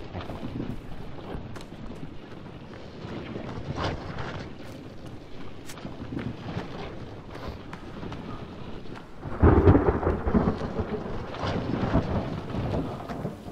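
Thunderstorm in the survival video game The Forest: steady heavy rain hiss with low rolling thunder throughout, swelling into a louder crack and rumble near the end, no talking.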